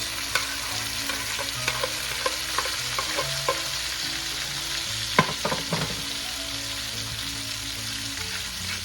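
Onions and tomatoes for a pinakbet vegetable stew fry in a pan, a steady close sizzle broken by scattered spatula taps and a brief cluster of sharper clacks midway, with no one speaking.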